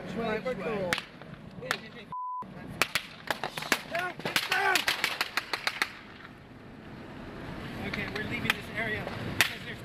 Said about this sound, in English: the most glaring evidence that this is a staged event is the gunshots themselves